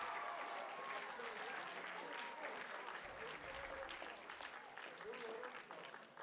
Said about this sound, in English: Yeah, you can clap for that.